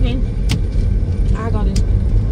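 Steady low road rumble of a car heard from inside the cabin, with people talking over it throughout and a couple of brief clicks.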